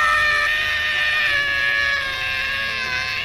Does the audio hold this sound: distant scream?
yes